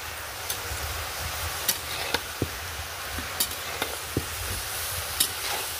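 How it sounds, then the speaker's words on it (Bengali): Cabbage frying in a pan with chili powder, turmeric and salt, a steady sizzle broken by sharp spatula taps and scrapes as it is stirred, no voices. "বাঁধাকপিটা খানিকটা আমি নেড়ে নিয়ে এখানে লঙ্কার গুঁড়ো, হলুদের গুঁড়ো আর নুন আমি দিয়ে দেবো, দিয়ে আবার খানিকটা নেড়ে নেব"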